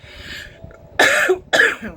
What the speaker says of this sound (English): Got a frog in my throat or something.